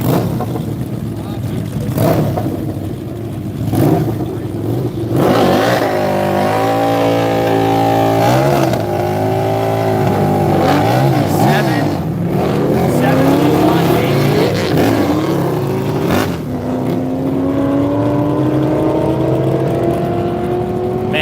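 Cars accelerating and revving at the Texas Mile speed event, engine tones climbing steadily over about twenty seconds, with several overlapping runs at moderate distance and people talking throughout.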